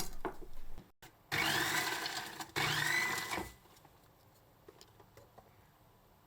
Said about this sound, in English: We use a slicer for quick and easy shredding.